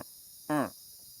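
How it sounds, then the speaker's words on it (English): Baby yacaré caiman giving a single short, nasal, rising chirp-like call, faint, over a steady high insect hiss. "That's the sound the babies make to call their parents."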